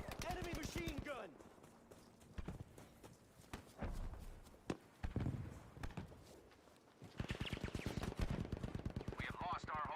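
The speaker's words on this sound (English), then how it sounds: "Enemy machine gun" Enemy machine-gun fire in the video game Battlefield V, rapid bursts of repeated shots in two clusters, loud and close, with a quieter stretch of other game sounds and voices between them.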